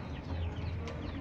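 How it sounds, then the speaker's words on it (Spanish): A hen in a backyard garden clucks in short, close, low bursts for just over a second, with no voices. "Solamente aquí hay dos gallinas"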